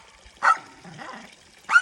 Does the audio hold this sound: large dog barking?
yes